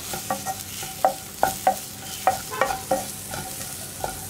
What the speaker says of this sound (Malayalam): എല്ലാ മസാലകളും ചേർന്ന് നന്നായിട്ടൊന്ന് മിക്സ് ആയി വന്നിട്ട് തക്കാളി ഒന്ന് കുക്കായി തുടങ്ങുന്നത് വരെ നമ്മളൊന്ന് ഇളക്കി കൊടുത്തുകൊണ്ടിരിക്കുക